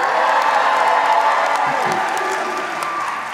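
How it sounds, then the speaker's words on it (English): A graduation audience at Faith International University cheers after a graduate's name is called, a loud, dense wash of crowd cheering and clapping that holds steady, then eases slightly toward the end. "you're going to cheer after I call out the names"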